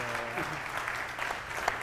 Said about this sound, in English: how about a round of applause for our panelists here